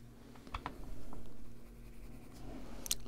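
Derwent Graphitint colored pencil strokes scratch softly across paper in short, uneven bursts, close up and faint, with small taps between strokes.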